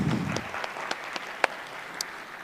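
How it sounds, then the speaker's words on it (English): A conference audience claps briefly after a talk on AI, scattered moderate applause that thins into a few separate claps, heard from the front of the room. "So let's clap for them."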